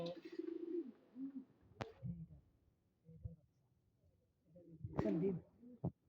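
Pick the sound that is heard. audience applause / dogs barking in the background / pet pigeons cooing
pet pigeons cooing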